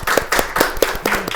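Several sharp hand claps, loud and close, in a quick uneven burst of about six or seven, with a faint voice briefly underneath, greeting a guest on a Indonesian education podcast.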